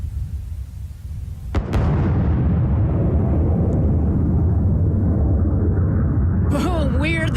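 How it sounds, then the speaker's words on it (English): Sonic boom from a returning Blue Origin New Shepard rocket booster over Texas: a sudden sharp crack followed by a loud, sustained low rumble that rolls on for several seconds. "Boom, we heard the sonic boom down here in Texas."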